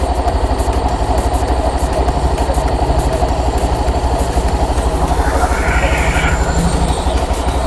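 A Honda Beat V3 scooter engine idles steadily during CVT cleaning, with a close, even, pulsing putter and a brief higher mechanical whine partway through.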